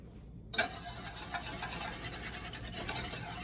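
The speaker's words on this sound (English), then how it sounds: "Then we're going to stir in 1 teaspoon of vanilla." Vanilla being stirred into a hot mixture in a pot just taken off an electric stove, a soft steady scraping and swishing with faint sizzle, close and continuous after a brief quiet start, no talking.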